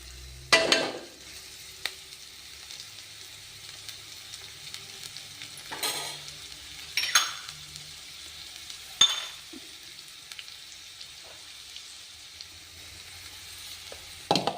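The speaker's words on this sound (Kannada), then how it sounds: "ಇದು ಗೋಲ್ಡನ್ ಕಲರ್ ಬರುವವರೆಗೂ ಫ್ರೈ ಆಗಿ" Ingredients for coriander rice (kothambari rice) frying in a pan until golden: a quiet, steady sizzle broken by a few sharp clinks and scrapes of a stirring utensil.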